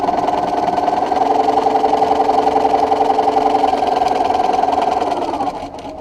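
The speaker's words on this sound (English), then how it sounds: "I'm going to top stitch along the top right at 1/4 inch." A sewing machine top stitches a seam a quarter inch from the edge, running in a steady, close, continuous whir for about five seconds before winding down at the end.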